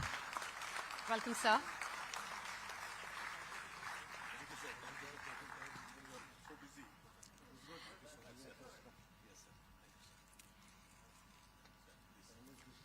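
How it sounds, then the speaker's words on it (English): A crowd applauds to welcome a government minister as chief guest at a technology event. The clapping is strongest early, fades over several seconds and trails off into quiet room tone, with a brief spoken greeting partway through. "A thunderous round of applause, ladies and gentlemen."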